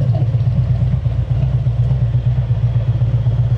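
A large-displacement Harley-Davidson motorcycle engine runs close by at low revs, a loud steady throbbing rumble with no voices over it.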